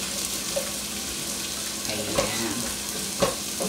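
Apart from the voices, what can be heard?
beef meatballs sautéing with garlic and onion in a pan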